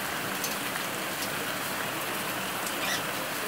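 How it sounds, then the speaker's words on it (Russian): A downpour in Antalya, Turkey keeps drumming steadily, an even wash of rain hitting surfaces nearby, heard alone without talk. "сегодня вот такой вот ливень пошел."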